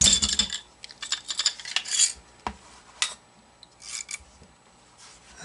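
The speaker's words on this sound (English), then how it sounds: "pull down on the tabs on either side here while pulling the slide back and up" Metal parts of an Astra A-60 .380 ACP semi-automatic pistol click, scrape and rattle as the slide is pulled back and off during tabletop disassembly, a series of close, sharp metallic sounds separated by short quiet gaps.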